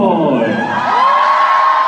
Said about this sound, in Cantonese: 好啦，一齊為智訓歡呼該！